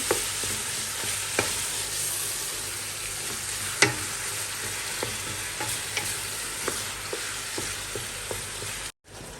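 Ground beef, a kilo and a half of it, frying and being stirred in a pan for lasagna: a steady close sizzle broken by repeated scrapes and knocks of the spoon, with no talking.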